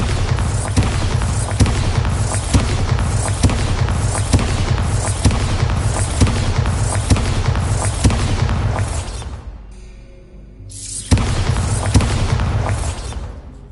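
Bombarda spell blasts in Hogwarts Legacy on PS5, a loud, dense run of booming explosions and bursts repeating about every second, with a brief drop to near quiet before the blasts resume.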